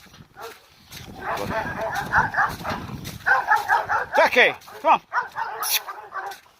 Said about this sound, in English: I know you can hear a dog barking.